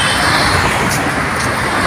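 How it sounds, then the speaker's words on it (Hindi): Heavy traffic on a highway, a loud, steady roar of passing vehicles with continuous broadband rumble and hiss and no clear breaks. "क्योंकि गाड़ी बहुत चल रही है"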